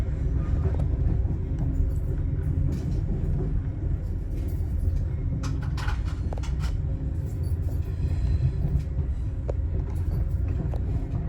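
An Amtrak Capitol Limited passenger train arriving at Chicago Union Station rumbles steadily with a low, continuous drone and faint clanks and squeals of wheels on track, no voices.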